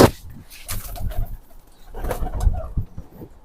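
Pigeons kept in a loft coo close by, with soft throaty rolling calls in short bursts and rustling movement between them.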